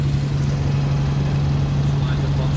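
A Sonex light aircraft engine runs steadily and loudly on the runway, a continuous droning hum with a strong low tone that persists unchanged throughout.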